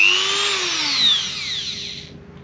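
A Dremel rotary tool whirs at high speed aboard a sailboat, its shrill whine sliding downward in pitch as it spins down and stops after about two seconds.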